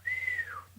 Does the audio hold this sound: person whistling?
yes